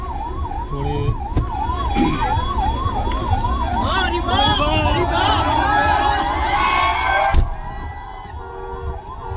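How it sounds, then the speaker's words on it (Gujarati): A wailing ambulance siren rises and falls repeatedly amid a busy crowd and traffic noise, loud and close, with voices murmuring underneath. "એમ્બ્યુલન્સ આવી હતી, આપણે ખોલજો થોડી"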